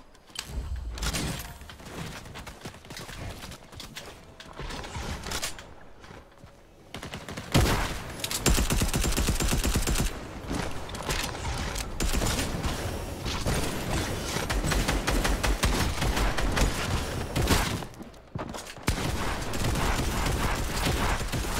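Dense bursts of automatic gunfire in the Fortnite video game on Xbox Series S, rapid overlapping shots with a busy game soundtrack and effects, loud and continuous.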